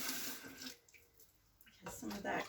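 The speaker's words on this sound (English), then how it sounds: "I'm going to add just a little bit of water." Water pours from a tap into a multicooker pot holding broth, a steady splashing stream in two bursts with a quieter pause between, close by, with a person talking nearby.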